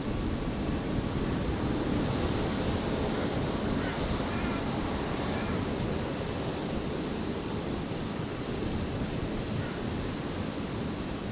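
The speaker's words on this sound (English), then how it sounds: "The Qantas Link Embraer touching down there from Adelaide." A QantasLink Embraer jet from Adelaide touches down on runway 01 left at Brisbane Airport, a continuous broadband roar of engine and rollout noise that stays fairly level throughout.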